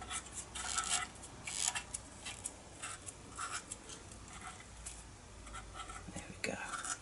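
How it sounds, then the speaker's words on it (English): A blade rasps and scrapes along the edge of a small model bunker beam, roughening it. The quiet, repeated short strokes come in an uneven rhythm, close up against a faint background. "I'm just going to go along the beam now and just cut away some of the edge, just to roughen it up"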